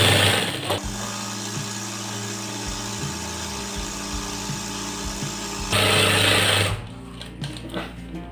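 Sewing machine stitching an edge strip along a shirt, a steady close mechanical whir running continuously, rising briefly louder near the end before stopping.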